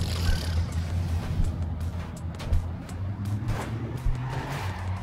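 A truck in the video game Clustertruck drives and skids, heard as a continuous engine drone with rough, scraping tire noise and a few thumping impacts throughout.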